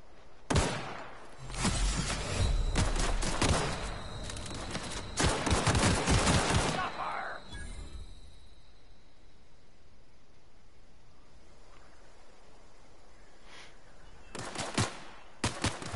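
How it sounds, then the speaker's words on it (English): Loud bursts of automatic gunfire in the video game The Outer Worlds, several heavy volleys early on, then a long quieter stretch before a few final sharp shots. "Shots coming from somewhere."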